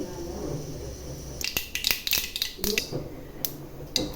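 Mustard seeds splutter in hot oil while tempering for a brinjal and moong dal kotsu: after a quieter start, a burst of sharp, irregular pops and crackles rings out close by.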